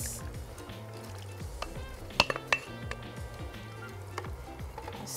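Broth and marinated cabbage are stirred into a pot of Korean hangover soup over brown bits left at the bottom, with a close sizzle, scraping spoon strokes and a few sharp metallic clinks against the pot.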